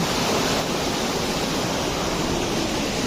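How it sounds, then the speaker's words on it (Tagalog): A waterfall seen on a hike, a loud continuous roar of falling water with a dense, even rush that stays steady and close throughout, with no talking. "Bali, nakikita ko na yung falls."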